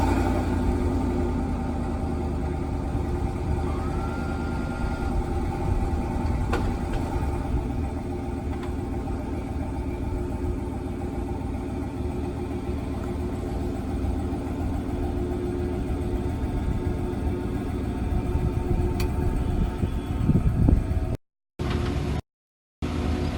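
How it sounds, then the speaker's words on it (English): A Chevy Silverado pickup rolling slowly down off ramps, its engine giving a low, steady idling rumble throughout, close by, ending in brief cuts of silence. "I drove my truck slowly off of the ramps"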